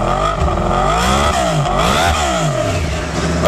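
A Yamaha R1 sport motorcycle revs hard up close, engine pitch rising and falling in loud sweeping revs that run continuously throughout.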